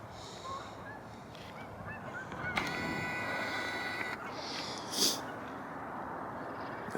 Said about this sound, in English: And you got some gooses over there flying.